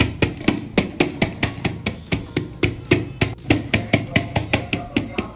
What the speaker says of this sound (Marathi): तुम्ही बघू शकता टॅप केल्यामुळे आपला केक सहज निघतो।